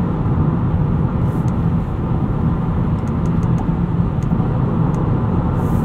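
Cabin of a 2019 Honda Accord 2.0T Sport with a six-speed manual pulling in sixth gear, a loud steady drone of engine and road noise that holds constant throughout, with faint ticks above it.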